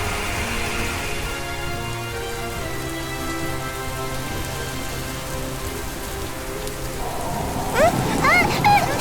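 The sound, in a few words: sudden heavy rain with thunder in animation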